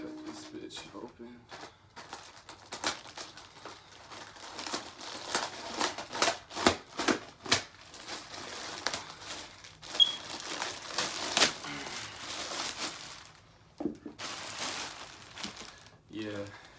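Cutting open the shipping box of a Skar Audio ZVX 12-inch subwoofer: scattered crinkling, scraping and tearing bursts in irregular bursts at close range, with someone talking intermittently over it.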